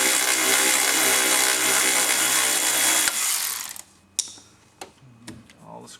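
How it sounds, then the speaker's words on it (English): Trim panel screw being removed inside a Chevrolet Impala during instrument cluster removal: a loud, continuous whirring tool noise for about three seconds, then a few sharp clicks and light rattles close by. "then you can remove the screw here"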